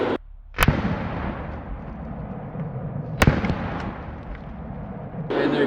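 Two sharp, loud .308 rifle shots from a PSA PA10 Gen 3 crack outdoors a few seconds apart, striking stacked concrete blocks, each with a short echoing tail.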